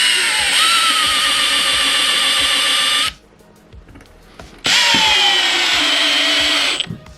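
A power drill drives a screw into hard wood with a countersink, two loud sustained whining bursts with a short quiet gap between them, the pitch dropping slightly as each run loads up.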